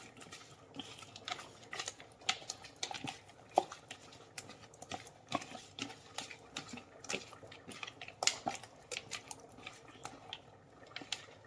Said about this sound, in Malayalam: നമുക്കിത് നല്ലോണം മിക്സ് ചെയ്തെടുക്കാം